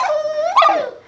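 A puppy lets out a short, loud whimpering yip close by, a single rising and falling whine with no talking over it.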